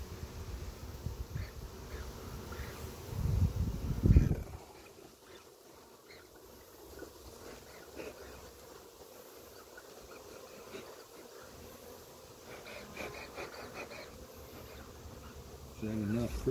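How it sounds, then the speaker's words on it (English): Honey bees buzzing in a hive box with frames covered in bees, a steady close drone that swells loudly at first, then settles into a continuous hum with some handling noise. "completely covered with bees."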